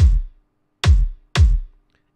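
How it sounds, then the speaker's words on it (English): Three punchy acoustic kick drum hits from a sample, each a deep boomy thump with a short bright attack, the second and third close together, clean and alone with silence between. "we can pick a kick of which we like the timbre"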